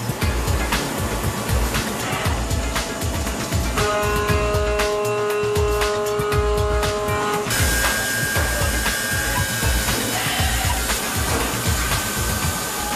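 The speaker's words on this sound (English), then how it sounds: "They're going to be drilled so that the locking mechanism can be fitted. It's done by machine" Loud, steady factory machine noise as a machine drills holes in padlock bodies, a continuous mechanical whir and grind with tonal whines that shift partway through, with no speech.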